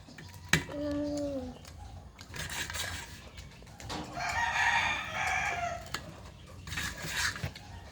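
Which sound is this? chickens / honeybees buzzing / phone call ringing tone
chickens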